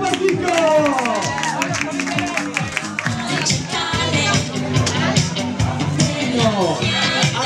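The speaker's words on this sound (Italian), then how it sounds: "Un applauso per Chico!" A crowd claps steadily over lively chatter and voices at a carnival party in a café in Palmanova, the applause continuing throughout.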